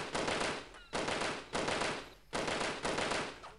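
Gunfire from the video game Delta Force comes in four loud automatic bursts, each lasting under a second, separated by brief gaps. No voices are heard.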